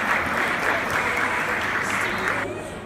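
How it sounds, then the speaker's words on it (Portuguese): An audience applauds volunteers who have just come up on stage at a live show, the clapping dense and steady, then thinning out near the end. "Pessoal, uma salva de palmas aqui"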